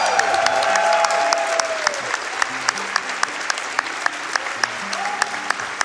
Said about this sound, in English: Can we get one more round of applause for the devs as well